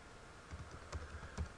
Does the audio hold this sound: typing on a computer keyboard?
yes